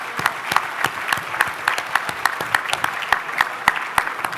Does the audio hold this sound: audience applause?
yes